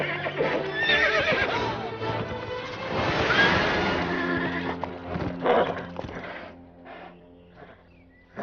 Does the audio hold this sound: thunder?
no